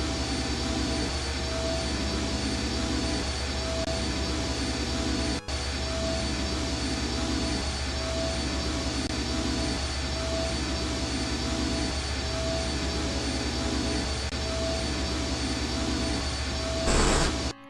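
Engine hum in a video game, a loud continuous droning whir with a faint pulsing rhythm and a steady high whine, unchanging for the whole stretch apart from one brief dropout, with no talking.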